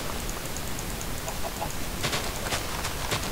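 A Minecraft chicken clucks in short bursts over constant game ambience, the clucks clustering toward the end and sounding fairly close.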